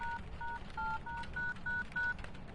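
Telephone keypad dialing tones in the ghost-hunting game Phasmophobia, on the Tanglewood map: seven short, evenly spaced dual-pitch beeps in quick succession, loud and clear over a faint low background hum, with no talking.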